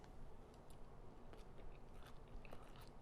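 Crunchy bites and chewing of a quinoa bowl with arugula, avocado, feta and onion, close to the mic, steady and continuous with sharp crisp crackles scattered throughout.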